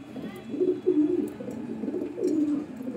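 Racing pigeons coo nearby in soft, repeated throaty rolls, several low calls overlapping at a moderate level with no talking.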